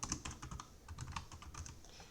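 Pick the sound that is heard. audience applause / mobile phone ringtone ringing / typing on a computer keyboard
typing on a computer keyboard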